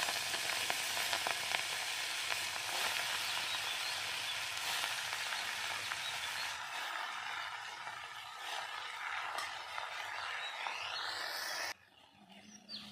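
Pea greens frying in a pan with green chillies, a loud, continuous sizzle that softens gradually and then drops off sharply near the end, leaving quieter cooking noise.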